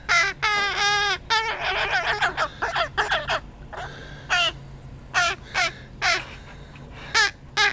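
A young crow gives a rapid series of harsh, nasal begging caws, loud and close, in bursts with short pauses between.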